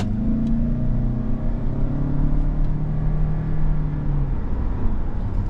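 Toyota Camry XLE AWD hybrid sedan accelerating in sport mode with manual shifting, a steady engine hum heard from inside the cabin whose pitch rises and then drops, continuous and fairly loud.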